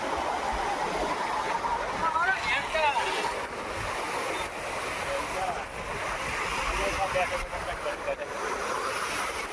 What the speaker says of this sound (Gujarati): જોઈ લો પાણી જઈ રહ્યું છે જો નાલા ફૂલ જાય રહ્યા